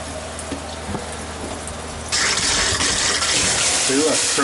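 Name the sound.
water running from RV faucet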